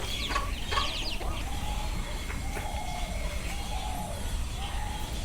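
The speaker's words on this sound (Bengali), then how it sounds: "ওই দেখেন মুরগি" Chickens cluck in a poultry farm shed, a few close bursts of clucking at the start followed by softer calls over a constant dense background of flock noise.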